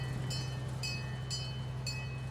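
Train ride at Old Town Tucson, a western-themed attraction: a steady low rumble of rolling rail cars with regular rhythmic clacks recurring about every half second, fairly close and alone without voices.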